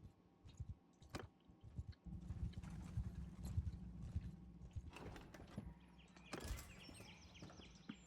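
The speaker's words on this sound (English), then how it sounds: "So I'm going to slowly trot on my horse that is clearly having a moment." Hooves of a horse trotting in the Mount and Blade Warsails video game, a run of soft rhythmic clip-clops close by, with small clanks and creaks of gear, fairly quiet with no talk.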